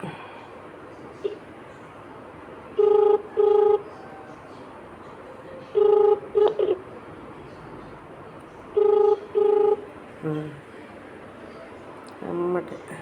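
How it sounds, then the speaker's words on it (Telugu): A telephone ringback tone repeats in paired bursts at regular intervals, with a quiet hiss between rings and a brief voice near the end. "బాగా రింగ్ అవుతుంది."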